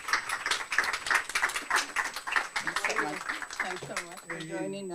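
An audience applauds a president at a panel event, a dense burst of clapping that fades after a few seconds as a voice begins speaking over the tail of the applause.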